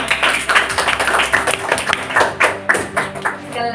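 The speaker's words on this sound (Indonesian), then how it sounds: "Oke, tepuk tangan untuk kita semua." A small group in a guidance-counseling session claps hands together, a quick uneven patter of claps with a few thuds, close and moderately loud.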